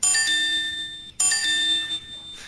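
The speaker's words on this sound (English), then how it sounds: "That's my waffle bell." A small bell rings twice, each strike bright and metallic with a long shimmering ring-out, loud and close, the second strike coming just after the first fades.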